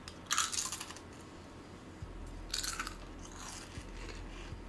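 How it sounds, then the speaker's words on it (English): Crisp potato chips being bitten and chewed close to the mic during a Rain World Expedition gaming session, in two loud bursts of crunching with quieter chewing between and no talk. "How does this chip crunch sound?"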